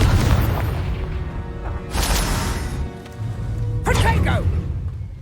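Blasts from the Confringo fire spell in Hogwarts Legacy, a loud burst near the two-second mark and another around four seconds, each cracking out over a busy, rumbling game soundtrack.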